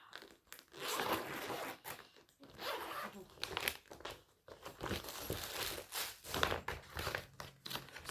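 Zips on a navy horse dry rug are pulled open in several short, close rasping bursts mixed with crinkling fabric and packaging, with quiet pauses between pulls.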